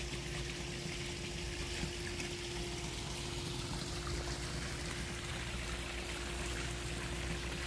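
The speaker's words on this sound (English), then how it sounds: "There's a waterfall feature as well." Continuous splashing and trickling water from a backyard swimming pool waterfall feature, a steady gentle pour like a small waterfall, uniform and unbroken throughout.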